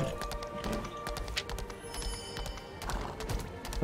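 Horse hooves in the video game Lost Ark clop in a quick, steady rhythm at moderate distance, with faint tonal game sounds layered underneath.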